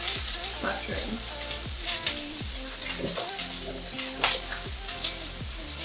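Mushrooms fry in olive oil in a pan alongside bell pepper for a cheesesteak, a steady close sizzle with crackling pops and stirring scrapes throughout, no voices.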